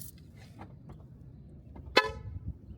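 A single short, loud horn blast from a Ford Focus rings out close by after quiet shuffling and small clicks.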